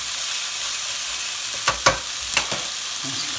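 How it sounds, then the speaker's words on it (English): Chicken sizzles steadily in a hot pan, a continuous close frying hiss broken near the end by a few brief clinks and scrapes of stirring. "It's frying okay."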